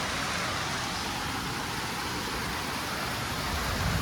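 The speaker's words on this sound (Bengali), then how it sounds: "বৃষ্টিটা আরও জোরে নামলো" Heavy afternoon rain pouring down, a dense, steady hiss that stays loud and unbroken from start to finish, with no voices.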